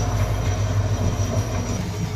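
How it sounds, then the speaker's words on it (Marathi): Steady, heavy rumbling of a passing train, with a constant low roar and no breaks. "रेल्वे आलेले आहे"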